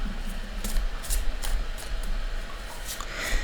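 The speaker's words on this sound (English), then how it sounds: "We're going to shuffle all of these live" Tarot and oracle cards being shuffled by hand in a quiet room, giving a series of soft, brisk papery riffles and rubbing swishes over a low steady background hum.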